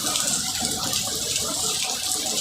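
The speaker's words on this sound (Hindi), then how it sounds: "जोरदार वरसाद भरी है" Heavy monsoon rain pours with running water near a farm field, a loud, steady, unbroken hiss and wash that fills the whole stretch with no voices.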